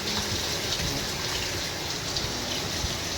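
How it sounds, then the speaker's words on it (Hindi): Steady rain pours down near an outdoor hotel swimming pool at a Welcomhotel in Coimbatore, a dense, even hiss of drops hitting water and paving with no breaks. "बहुत टाइम बाद बारिश आई है"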